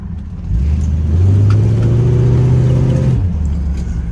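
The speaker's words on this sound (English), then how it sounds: "I'm just gonna kind of give you a little demonstration of the acceleration of this car" A 1967 Ford Thunderbird pulls away hard, its engine note rising steadily under acceleration for a few seconds, then easing back to a lower hum.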